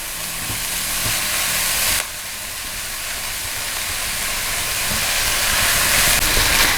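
Finely chopped capsicum and carrot stir-frying on high flame, a loud constant hissing sizzle with a brief break and scattered stirring taps, close up and with no voices.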